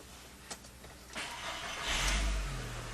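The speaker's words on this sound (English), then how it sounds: "So we're going to start the car." A Mini Cooper engine cranks with a brief click and whir, then catches and settles into a low, steady idle close by.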